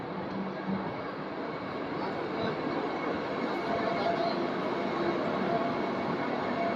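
A Vande Bharat express train bound for Mangalore Central rumbles steadily along the tracks at speed, a continuous broad roar with faint rattling, heard from inside or close by.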